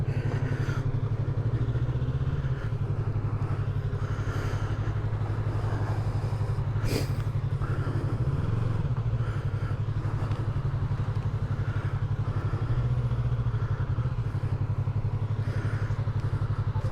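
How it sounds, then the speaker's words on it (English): The cooling fan on a wrecked 2020 Yamaha MT-03 motorcycle produces a continuous low whirring drone that holds steady with slight fluctuations, heard close up with no talking. "You hear your fan running on your bike?"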